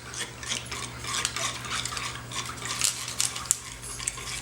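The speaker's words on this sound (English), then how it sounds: "just agitate the water as you pour in the gelatin mix" Gelatin mix being stirred into hot tap water in a container, giving a steady wet swishing and sloshing with light clinks of a utensil, close and moderately quiet.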